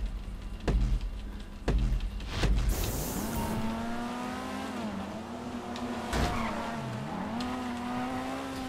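A car driven in GTA 5 Online, engine note rising and falling steadily with gear shifts and a skid, after a few loud thumps early on, heard alone and fairly close.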